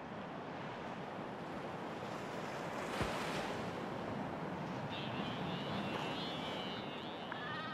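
Ocean waves and steady wind wash over flat, low-lying Midway Island in the middle of the Pacific, a continuous roaring surf with a brief thump partway through and faint high calls near the end.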